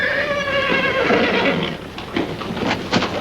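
A horse neighs loudly and close in a wartime film scene, a long whinny followed by snorting and a few clip-clop hoof sounds.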